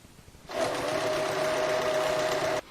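A Janome 1600P sewing machine stitches a quilt mounted on a Grace quilting frame, a steady continuous mechanical whir running at an even pace for about two seconds after a quiet start.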